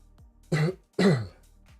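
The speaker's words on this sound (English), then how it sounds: "Let me clear my throat." Two rough, gravelly throat clears in quick succession, close and fairly loud, in an otherwise quiet room.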